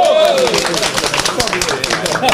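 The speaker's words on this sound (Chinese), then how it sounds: "我们先给老师傅鼓掌一下" An audience claps for an old pastry master at a lively pastry-making session with a politician. Brisk, uneven handclaps sound close by, while people talk and call out over them.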